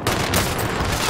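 Rapid automatic gunfire from a gun in a video game, a dense, loud, continuous burst lasting about a second with no talking.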